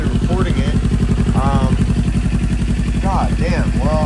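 A Kawasaki Z400 motorcycle fitted with an Akrapovic exhaust idles loud and close with a steady throbbing pulse, while someone talks over it.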